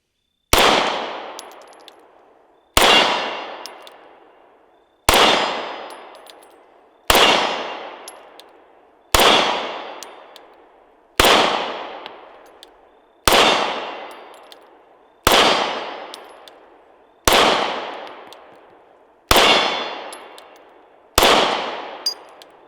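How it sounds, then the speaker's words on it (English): Eleven evenly spaced gunshots from a suppressed Kiger 9mm pistol fired at a target about 25 yards downrange, each a sharp loud crack with a ringing decay, roughly two seconds apart, with no talking. "we're going to shoot it with this Omega and everything and see what happens"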